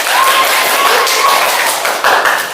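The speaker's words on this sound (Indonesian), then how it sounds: "Tepuk tangan dulu biar semangat" A classroom of eighth-grade students claps together at the start of a lesson, giving a burst of fairly close, loud clapping with a few stronger accents and a brief dip near the end.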